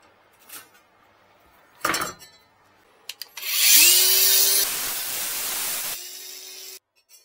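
Power cutting through rusty sheet metal on a Renault 4L body: a loud, harsh grinding whine starts after a couple of sharp knocks, holds steady for about three seconds, then stops abruptly.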